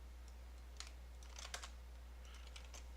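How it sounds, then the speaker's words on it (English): Quiet bursts of computer keyboard typing, a few quick clusters of light key clicks separated by short pauses, faint and alone over a low steady hum. "Why am I typing?"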